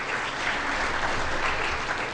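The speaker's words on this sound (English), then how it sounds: "can we have a round of applause for Dana, please" Audience applause at a college debate on sexual assault, a brief, dense burst of many hands clapping at a steady loud level with no speech over it.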